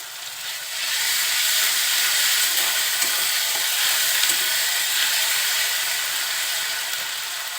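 Garlic and ginger paste fries in hot oil in a pan, giving a steady, loud sizzling hiss that lasts the whole stretch with no talk.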